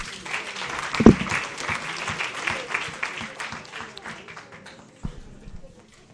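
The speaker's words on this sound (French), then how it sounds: "Vous pouvez applaudir." Audience applause after a student is introduced at a French talk on education and equal opportunity, a moderate burst of clapping with one louder clap near the start, thinning toward the end.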